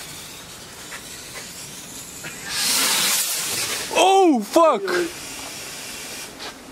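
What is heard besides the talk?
fireworks being set off by hand, hissing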